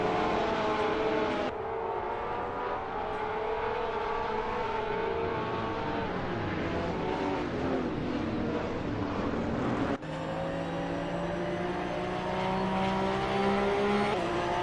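AI-driven race cars battle on track in the Gran Turismo Sport video game. Engines rev and whine continuously, with pitch sweeps and an abrupt cut midway to a different car's engine note.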